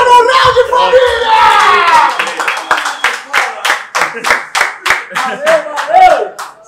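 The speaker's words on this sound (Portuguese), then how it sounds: "Palmas pro Dança Moral de Família!" Audience at a Brazilian freestyle rap battle: an MC's rapping voice gives way to rhythmic, steady crowd clapping in even beats, loud and close, building into a regular pulse.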